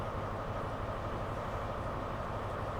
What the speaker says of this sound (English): And here comes a train.